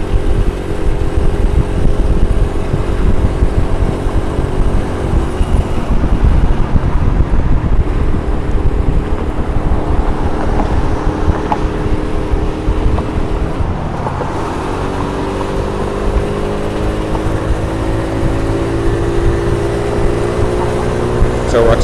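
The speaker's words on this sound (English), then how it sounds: "we're accelerating up toward 40 miles an hour in third gear, and now in fourth gear" Car accelerating along an elevated Brooklyn roadway, engine tone climbing in steady harmonic sweeps as it shifts up through third and fourth gear; continuous loud road and wind roar throughout, with someone talking over it.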